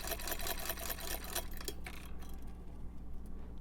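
A sewing machine side-stitches a leather shoulder holster, giving rapid, close mechanical clatter for about two seconds before it slows and stops, leaving faint ticks and room hum.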